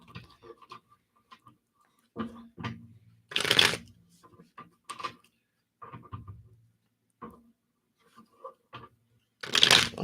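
Tarot cards are shuffled in short, crisp riffles and flutters close by during a reading, with a voice speaking in between.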